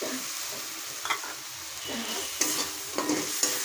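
Chopped tomato goes into oily spice masala frying in a pan, with a moderate sizzle and several clinking, scraping stirs of a spoon against the pan.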